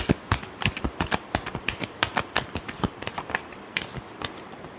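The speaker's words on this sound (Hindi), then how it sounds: "Last shuffle." Tarot cards being shuffled in a Sagittarius reading: a steady run of crisp, sharp riffling snaps, close and fairly loud, about two dozen quick taps in an uneven rhythm with no talk.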